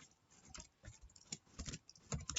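Keys clack on a computer keyboard in quick, uneven bursts, fairly close and alone, with short pauses between runs of strokes.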